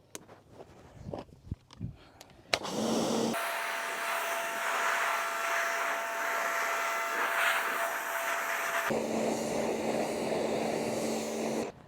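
A steady broadband hiss of pressure-washer spray rinses a VW Tiguan wheel, running loud and continuous for about nine seconds with a faint tonal whine beneath, after a few scattered knocks and clatters at the start.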